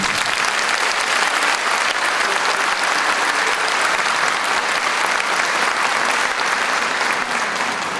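Sustained, loud applause from a large concert audience for the choir, steady clapping filling the whole stretch without letting up.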